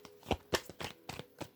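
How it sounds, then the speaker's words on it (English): Tarot cards are shuffled by hand in a quiet room, giving five or six quick, crisp riffling bursts close to the listener in an uneven rhythm, with no speech over them. "Two more shuffles."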